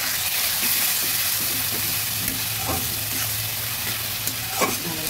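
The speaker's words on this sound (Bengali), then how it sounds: "ভালোভাবে নেড়ে দিচ্ছি।" Coriander paste is stirred into spices frying in a pan for katla fish curry, giving a steady wet sizzle with intermittent scraping strokes of a spoon, close and continuous.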